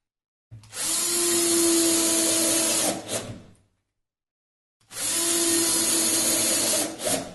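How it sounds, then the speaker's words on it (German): A power screwdriver drives screws into the wooden back panel of a Sela Snare Cajon kit, in two sustained whirring bursts of about three seconds each with a short pause between them, close and fairly loud. "und schrauben das mit den beiliegenden Schrauben fest"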